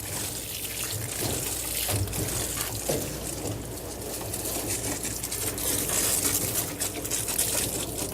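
Running water rinses flea shampoo off a dog, a continuous close splashing and trickling that shifts in intensity as the stream moves over the coat, with no talking.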